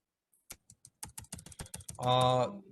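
Someone types Python code on a computer keyboard, a run of close, quiet key clicks in uneven rhythm with no talk, ending in a brief denser burst of clatter.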